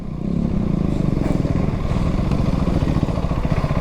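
A 2025 KTM Duke 390 motorcycle with its stock exhaust runs close by at low revs, a steady, loud, rapid throbbing pulse that holds for the whole stretch with no voices.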